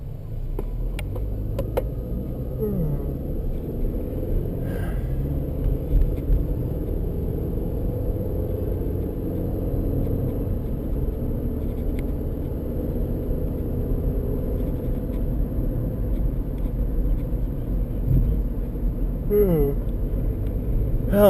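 Car interior while driving on a road near Perrysburg, Ohio: a steady low engine and road rumble runs throughout, with people talking over it.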